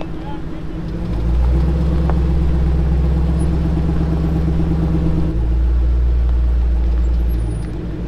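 A vehicle engine labors with a deep, loud low rumble that swells and holds as a car stuck off the road is pulled back onto it, then eases off.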